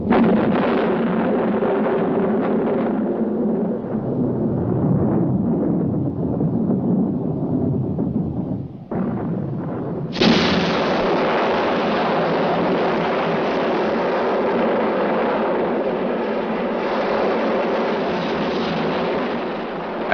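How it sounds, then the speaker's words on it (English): Miners' blasting explosions at a South African mine, heavy rumbling booms that fill the whole stretch, briefly dropping away before a loud renewed roar that holds steady with no voices. "the shrill of the exchange is drowned out by the blasts of the miners' explosions"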